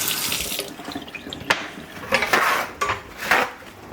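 Tap water runs into a sink while shrimp are cleaned, a steady splashing rush broken by sharp knocks and clinks of utensils and dishes, close up with no voices.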